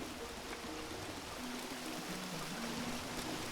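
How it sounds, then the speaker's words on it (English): Steady rushing water of a waterfall in The Legend of Zelda: Breath of the Wild, a continuous broadband roar with faint musical tones underneath, even and unbroken throughout. "let's say there's a waterfall"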